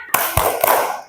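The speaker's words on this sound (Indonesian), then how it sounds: "Mana tepuk semangatnya?" Primary school children in a second-grade classroom perform the tepuk semangat spirit clap, a few sharp, loud claps together in a quick rhythmic pattern, close by with no talking.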